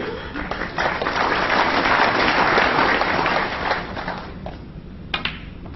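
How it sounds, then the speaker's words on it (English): A snooker audience applauds frame ball during a Premier League match, Selby against O'Sullivan, a steady wash of many hands clapping that swells and then thins out, with a commentator's voice faintly beneath. "They did, though, applaud frame ball"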